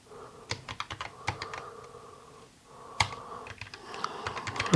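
JavaScript code being typed on a computer keyboard: quick bursts of crisp key clicks close by, a short pause, then another run of rapid tapping that builds toward the end.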